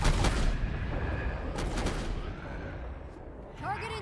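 Sniper rifle shots in Guild Wars 2: Heart of Thorns, with a sharp heavy report at the start and another booming shot about halfway through, both ringing out over game ambience. Rising whistling tones follow near the end.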